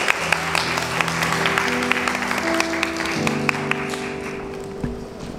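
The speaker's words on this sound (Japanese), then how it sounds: "それでは2人に大きな拍手をお願いします" Applause from an audience at a church senior appreciation gathering, steady clapping for two honored people with a few sharper claps, accompanied by sustained tones from a keyboard or organ underneath.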